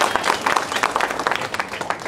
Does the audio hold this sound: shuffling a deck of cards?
no